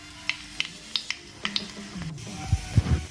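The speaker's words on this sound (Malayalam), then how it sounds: "ചൂടായ എണ്ണയിലേക്ക് നമുക്ക് കടുക് ഇട്ട് കൊടുക്കാം" Mustard seeds splutter in hot oil in a pan: a handful of sharp, separate pops crackle close by over a quiet sizzle, followed by a few dull low knocks near the end.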